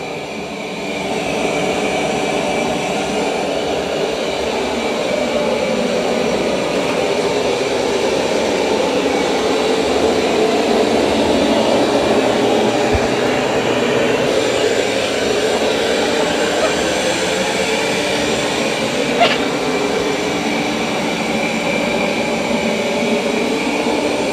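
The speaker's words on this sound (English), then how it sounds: "It's going to vacuum the carpet." A Roborock S8 series robot vacuum hums steadily over carpet, a continuous droning whir that holds for the whole stretch with no talking.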